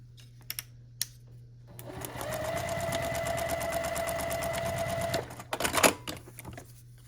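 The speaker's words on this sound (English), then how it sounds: "Okay, then we'll sew on this line here." A sewing machine stitches a tiny foundation paper pieced quilt block, running in one steady, close burst of about three seconds between a few soft handling clicks.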